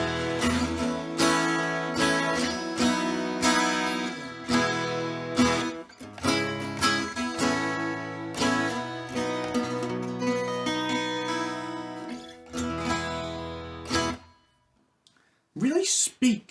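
Handmade Killick 12-string acoustic guitar strummed hard with dense, ringing chords and a few short pauses, played alone for about fourteen seconds before it stops and a brief voice follows.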